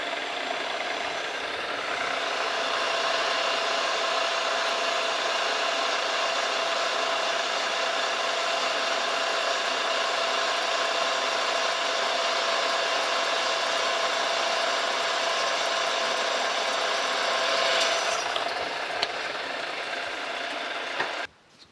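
A drill press bores a 5/16 inch hole into a metal base frame for a band saw, giving a steady, loud whirring grind that holds evenly for about eighteen seconds before the motor note drops away and stops.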